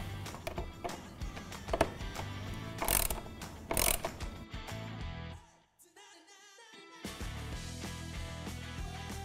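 Mechanical clicking and ratcheting while a T40 Torx fastener is removed from the underside of a BMW R1300GS motorcycle and a bracket is taken off during a pannier rack install, with a few sharper knocks and a brief quiet gap.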